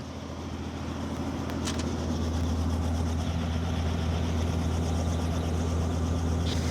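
Helicopter engine flown by the estate supervisor over a leisure domain in Brittany, a steady low rumbling drone with a constant harmonic hum that swells slightly at the start and then holds loud and even.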